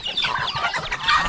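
Farm chickens cluck in quick, uneven bursts close by, several birds overlapping with no voices.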